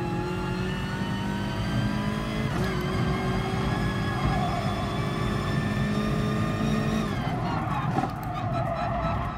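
BMW M6 in the GT Sport racing game, engine note climbing steadily through the revs in a loud, continuous drone with tonal whine, shifting pitch around the gear changes near the start and end.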